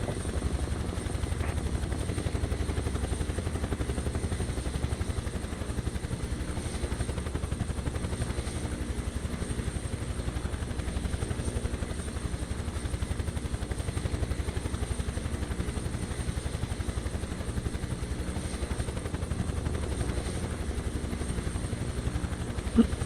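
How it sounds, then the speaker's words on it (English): A steady rotor-like hum of a Joby electric air taxi flying over the Grand Canyon in Microsoft Flight Simulator 2024 drones on continuously at moderate volume for the whole stretch, with no talking. "It's not a Joby helicopter, it's Joby flying vehicle."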